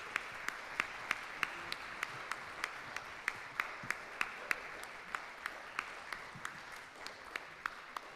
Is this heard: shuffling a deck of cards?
no